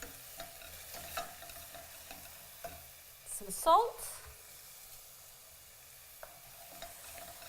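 Fresh blended garlic sizzles quietly in a pan while cumin-flavoured rice is made, with a brief louder burst of frying as something is stirred in; a person speaks briefly.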